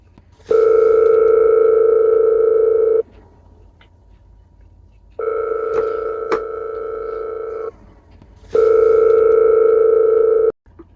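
Three long electronic ringback tones of a phone call, each steady and loud for about two to two and a half seconds with quiet gaps between, no voices.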